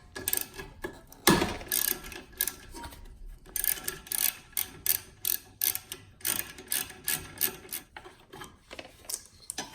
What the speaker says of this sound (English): we have this final 10mm bolt that we have to remove